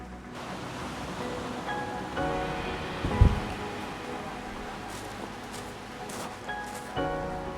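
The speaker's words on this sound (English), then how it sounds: "Oh my God, I see waves. Oh, what a great sound." Pacific Ocean surf heard from the shore at the end of a long walk, a steady broad wash of breaking waves with gentle swells and fades throughout, fairly close and without voices.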